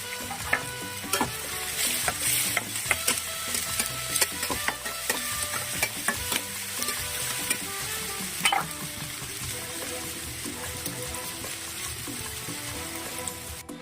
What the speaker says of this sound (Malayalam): നമുക്ക് 2-3 ഡ്രൈ ചില്ലി ചേർത്ത് കൊടുക്കാം.